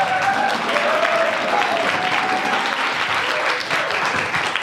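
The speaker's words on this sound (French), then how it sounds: "avec vos applaudissements" Steady audience applause fills a student union campaign debate hall, dense and sustained throughout with a faint voice or two underneath.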